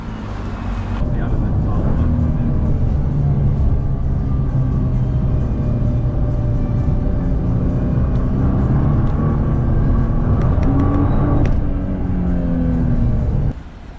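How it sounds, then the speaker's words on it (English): Car interior in Tokyo while driving off, a steady low engine and road drone with rising and falling engine tones throughout, and voices talking over it. "So we're going to jump back in the car and head off."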